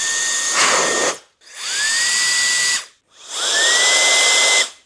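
A WOLFBOX portable turbo fan blowing with an attachment tip runs in three bursts, each spinning up with a rising whine into a loud steady airy roar, then cutting off abruptly, no talking.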